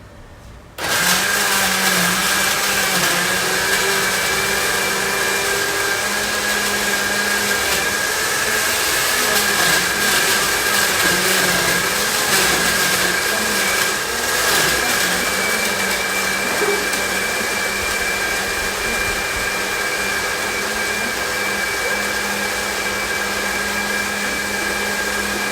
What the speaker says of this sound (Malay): kita akan kisar bawang besar bersama dengan bawang putih